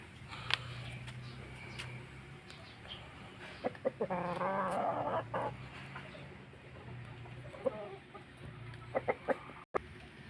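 A Kelso gamefowl rooster gives a short run of clucks near the middle, fairly close, over a quiet outdoor background with a few scattered taps and knocks.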